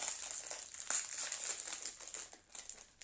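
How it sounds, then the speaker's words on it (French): Small plastic snack sachet being opened, with crisp crinkling and rustling of the thin packaging, close and continuous with brief louder crackles, no talk. "vous avez un petit sachet dans le sachet. Je vais l'ouvrir celui-là"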